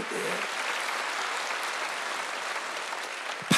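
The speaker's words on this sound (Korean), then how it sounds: "박수만 쳐도 하나님이 좋다 그러잖아" A church congregation clapping hands during a Sunday worship service, a dense, steady roar of applause that continues throughout before ending abruptly.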